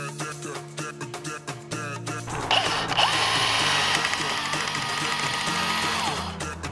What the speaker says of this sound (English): And then we've got a 6mm drill bit, and that seems to be super tight.